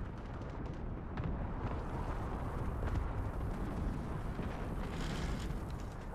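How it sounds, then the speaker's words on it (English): A cruise missile explosion in Call of Duty: Modern Warfare, a video game, heard as a sustained, rumbling roar of blasts and debris that swells and stays loud throughout, with no talking. "Cruise missile away."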